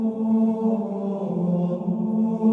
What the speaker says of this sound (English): We had Gregorian chant.